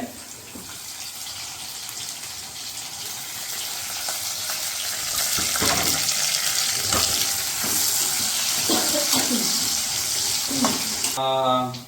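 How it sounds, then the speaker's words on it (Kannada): Chopped onions fry in a pan with garlic that has already turned light brown, giving a steady, close sizzle with scraping stir clicks throughout. "ಉಳ್ಳಾಗಡ್ಡೆ ಫ್ರೈ ಆಗ್ಯಾವ"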